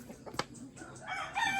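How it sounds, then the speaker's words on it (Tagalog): A rooster crows at a farmhouse among pet chickens, one short call followed by softer clucking and a rising, strained note near the end, at moderate distance. "Akong mga manok guys."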